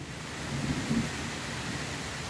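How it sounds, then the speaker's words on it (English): Thunder rumbles during a sudden weather change after scorching sunny heat, a low rolling boom swelling under a steady hiss of rain, fairly loud and continuous with no talking. "That's thunder!"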